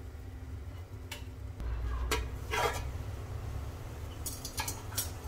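Spoon scraping and tapping against a cooking pot as ready pulao rice pilaf is stirred, several light clinks scattered over a steady low kitchen hum, no voices.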